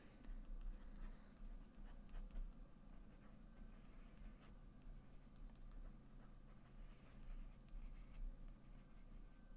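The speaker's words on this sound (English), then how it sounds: "Let me write that down." Pen or pencil scratching on paper as a note is written by hand, with soft, irregular strokes close up and fairly quiet, no talking.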